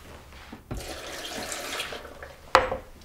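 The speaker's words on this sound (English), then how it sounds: "We add our water." A short, quiet splash of water poured into a blender, with a brief rushing pour and a small knock near the end.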